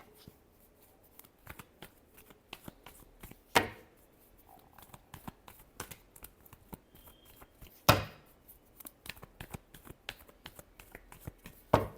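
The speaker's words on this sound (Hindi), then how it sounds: "Last shuffle." Tarot cards are shuffled in quick, crisp riffles and taps, close and fairly quiet, punctuated by a few louder slaps of the deck, with no talking.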